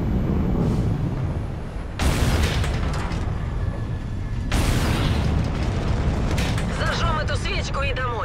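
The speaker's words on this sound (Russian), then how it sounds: "Давайте поглядим, как взорвется эта башня" A tower blows up in Call of Duty Infinite Warfare, with loud booming blasts and rumbling debris in separate waves. A voice speaks over the explosions.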